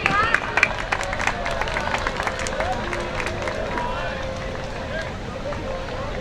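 Students clap together in a crowded hall at a college commerce fest, a dense, steady patter of applause heard up close throughout with a few louder claps near the start.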